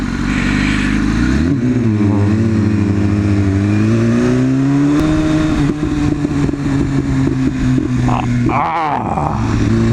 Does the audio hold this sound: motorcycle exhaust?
yes